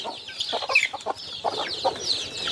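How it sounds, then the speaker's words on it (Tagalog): Young chickens about two to three months old cluck and squawk in short, close bursts while pecking at sweet melon, the calls coming irregularly over a faint background. "Itong mga 2 months old, 3 months old na mga manok, you know, gustong gusto nila yung melon."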